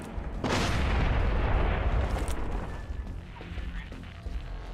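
A grenade goes off in Splinter Cell Blacklist co-op play: one loud, close boom with a crashing burst, then a rumbling decay that fades under quieter game ambience.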